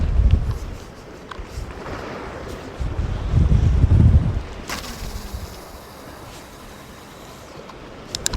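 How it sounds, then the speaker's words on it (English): Strong wind buffets a microphone at a harbour on the Moray Firth at Portknockie, North East Scotland, with low rumbling gusts that swell and ease, loudest in the first half, without speech. "You can probably hear the wind."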